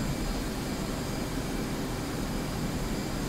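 An F/A-18C jet engine drones as a steady, broadband roar with a faint whine in the DCS World flight simulator, continuous and even throughout, with no speech.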